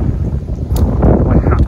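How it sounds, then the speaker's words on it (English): Strong wind on a forest walking trail buffets the microphone in a loud, rumbling roar that swells and steadies over a couple of seconds, with no talking. "Surprisingly windy today, catches you unawares."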